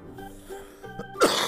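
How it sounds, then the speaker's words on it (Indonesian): A single sharp cough, loud and close, bursts out at the end after a quieter stretch of game background sounds with faint tonal music; it comes from a player who ate fried snacks earlier that day. "gue makan gorengan tadi siang aja jadi batuk"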